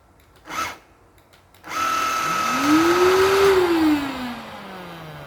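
A cordless vacuum's swiveling dust mite brush spinning up, a steady whirring motor hum with a rising and falling pitched whine, close and fairly loud after a couple of short clicks.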